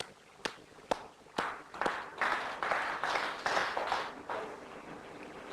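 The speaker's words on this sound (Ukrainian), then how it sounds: "Ви самі собі аплодуєте, шановні?" Studio audience on the 2003 Ukrainian Who Wants To Be A Millionaire: a few separate sharp claps at first, then a rolling burst of applause that swells and pulses, moderately loud and close.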